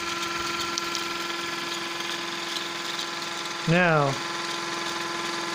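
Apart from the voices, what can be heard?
electric motor running during flyback generator test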